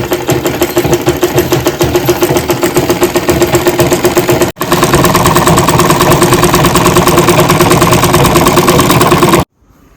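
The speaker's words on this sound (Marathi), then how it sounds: "असे लावायचे हे असं शिलाई मारून घ्यायचं दुपट्ट्याला" A sewing machine stitches a cotton baby quilt in a fast, even mechanical rattle, loud and close, running continuously with one brief pause before stopping at the end.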